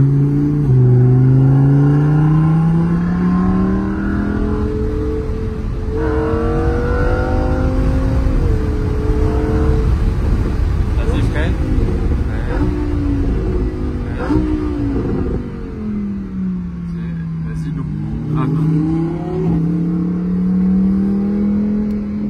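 A Lamborghini Huracan Evo engine revs and drops in pitch through several downshifts, with blips and surging roars up close over road and wind noise.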